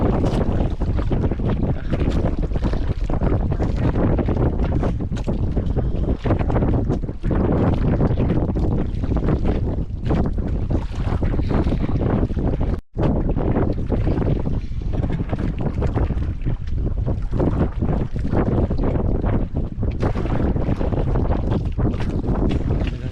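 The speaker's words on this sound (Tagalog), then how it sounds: "Hangin idol ah." Loud, gusting wind roars continuously across the microphone, buffeting it with a broad rushing noise, almost cut out once by a brief dropout.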